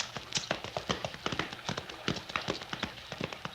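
Horse hooves clip-clop steadily as the animal is ridden at a brisk pace, a dense run of sharp, close taps with no talking over them.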